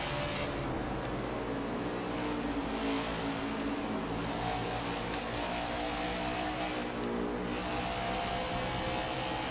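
Race car engine in NASCAR 21: Ignition at Dover, a steady loud drone with layered harmonic tones sustained throughout, rising slightly as it carries through a corner, with no talk over it.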